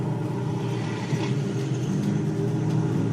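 Steady car engine rumble with a low mid-range drone as a learner driver eases onto the gas in a manual car, holding fairly even and close throughout.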